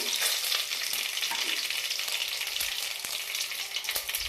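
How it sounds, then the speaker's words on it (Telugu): Mustard seeds, cumin and chillies fry in hot oil with a continuous crackling sizzle and a few sharp pops from the seeds, close and fairly loud, with no talking. "చూడండి ఆయిల్ వేడెక్కింది. ఆవాలు, జీలకర్ర, మిర్చి"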